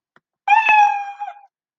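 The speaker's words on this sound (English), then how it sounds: "If you click him, he meows." A single cartoonish cat meow from the Scratch programming software, about a second long, clear and close, holding a steady tone before trailing slightly downward; no other sounds around it.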